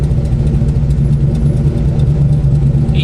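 A 610 hp NRE-built engine in a 1970 Chevelle runs loud and close, giving a steady, deep, throaty rumble that fills the whole stretch without a break.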